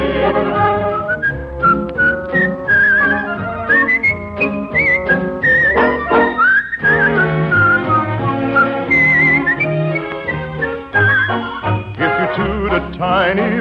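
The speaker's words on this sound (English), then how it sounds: "your penny whistle will make the whole world sing" A penny whistle plays a lively tune on a 1954 radio broadcast, bright, close melodic phrases with quick ornaments and short pauses, backed by soft accompaniment.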